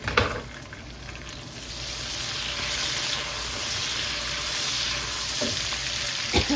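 Onion, garlic and green chillies frying in a pan, a continuous loud sizzle with occasional stirring scrapes and clinks at the start and end.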